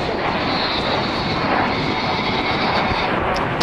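Frecce Tricolore aerobatic jets flying a barrel roll at high speed make a loud, continuous, broad engine roar that stays even throughout with no voices.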